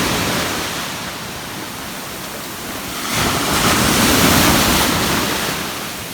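Ocean surf washes steadily against the shore at Boston Beach, Portland, Jamaica, a broad hiss that swells louder midway as a wave breaks, with no voices.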